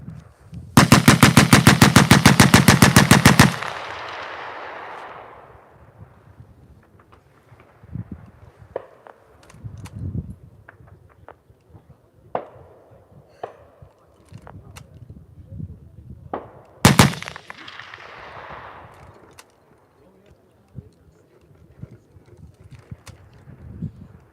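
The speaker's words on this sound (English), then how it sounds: "50 rounds at the normal rate. Fire!" At a commemorative firing, a Vickers machine gun fires fifty rounds at the normal rate. It gives one loud, rapid, rattling burst of about three seconds that echoes outdoors, followed by scattered knocks and a second short, sharp crack later on.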